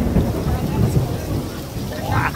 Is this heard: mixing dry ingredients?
no